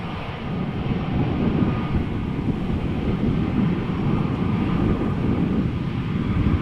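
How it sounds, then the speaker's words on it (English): A Singapore Airlines Airbus A350-900, seven years old, bound for Singapore from Amsterdam Schiphol, gives off a steady, broad jet engine roar that holds level and fairly close throughout, with no voices. "Singapore Airlines Flight 323, Airbus A350-900, going back to Singapore."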